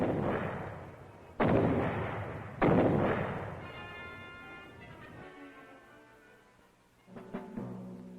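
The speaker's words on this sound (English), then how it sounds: "Care should be taken in detonating these grenades." Grenade booby traps of the Viet Cong type are set off from a safe distance with a grappling hook and rope. Two heavy booms land about a second apart, each trailing off into a rumbling decay, and a sharper, fainter thump follows later.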